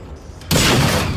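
A backpack explodes in the video game Generation Zero: a sudden loud, broad blast bursts in after a quiet moment and roars on with a noisy, crackling rumble.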